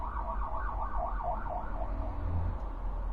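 An emergency siren wails outside, its rising and falling tone cycling rapidly over a low rumble of traffic, fairly distant and fading slightly as it passes.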